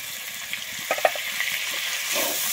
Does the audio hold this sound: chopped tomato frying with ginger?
yes